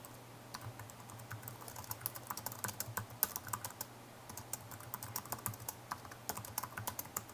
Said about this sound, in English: You would type your question in there.